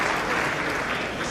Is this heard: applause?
yes